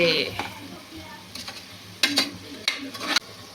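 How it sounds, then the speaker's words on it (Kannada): A spoon stirs tomatoes into chicken biryani masala in a pan, giving a low sizzle throughout. Sharp scrapes and clinks of the utensil against the pan land irregularly, loudest toward the end, with a faint voice now and then. "ಟೊಮೆಟೊ ಹಾಕಿ ಮಿಕ್ಸ್ ಮಾಡ್ತಿದ್ದಾರೆ"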